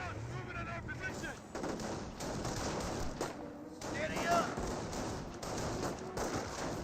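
Rifle gunfire from a Company of Heroes battle, riflemen squads exchanging shots in a cluttered, continuous din of small-arms fire and distant booms, with a commentator talking over it.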